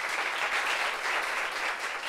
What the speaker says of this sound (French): allez, applaudissements pour moi